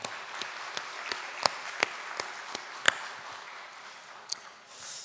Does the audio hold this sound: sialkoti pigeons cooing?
no